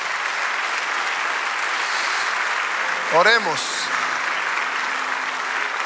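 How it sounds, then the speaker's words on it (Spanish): Steady congregational applause fills a church service, a continuous wash of clapping under which a pastor briefly speaks a single word. "Dale aplauso al Señor"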